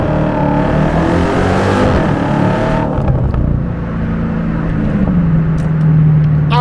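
A Dodge Hellcat Jailbreak's 717 hp engine roars and revs hard, pitch climbing as it accelerates, then shifts and keeps pulling loudly up close.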